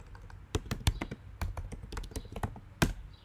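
A command is typed on a computer keyboard: about a dozen crisp, close keystrokes in an uneven rhythm, with one louder tap near the end.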